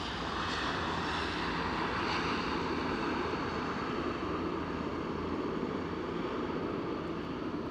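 Fixed-wing airplane at Aberdeen airport, its engine giving a steady, loud broadband roar that holds for the whole stretch without fading, no voices over it.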